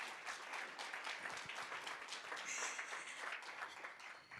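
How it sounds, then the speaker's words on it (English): Steady applause from a crowd at an awards ceremony, many hands clapping continuously and fairly loud, with no voices over it. "Another round of applause for Professor"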